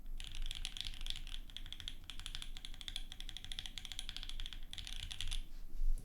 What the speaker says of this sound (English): I kinda like the sound profile in this keyboard.